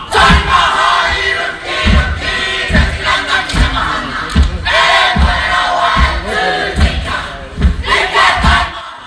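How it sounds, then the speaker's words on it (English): The Wakatipu High Kapa Haka group performs a haka at Onslow Park, with loud, forceful group chanting and shouts, rhythmic thumps of stamping and slapping at a steady pulse, and an outdoor crowd behind it. "crowds were impressed by a powerful performance by the Wakatipu High Kapa Haka group"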